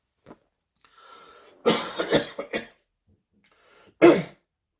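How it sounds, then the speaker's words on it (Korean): A man in a quiet room coughs in a short cluster of three or four harsh, throaty bursts, falls silent, then gives one more sharp cough a moment later, close and fairly loud. "제가 기침이 있어가지고"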